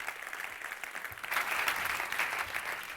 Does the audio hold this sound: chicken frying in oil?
no